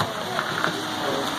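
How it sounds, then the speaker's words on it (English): Steady rain falling at an outdoor farmers market, a constant hissing wash of drops filling the whole moment with a few louder spatters, under background noise. "It's starting to rain again."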